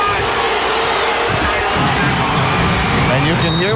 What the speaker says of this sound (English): You can hear what the crowd is saying.